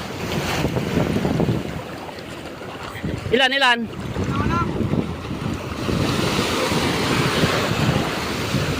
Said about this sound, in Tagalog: Hoy, alon!